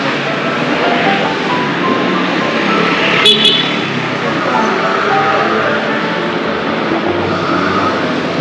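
Traffic in a Naples street with scooters and cars, a steady loud engine roar close by and a brief horn toot midway.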